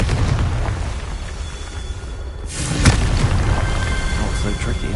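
A Confringo fire spell bursts with a loud explosive boom partway through, the blast standing out against a constant rumbling game soundscape with some speech-like activity around it, in the video game Hogwarts Legacy.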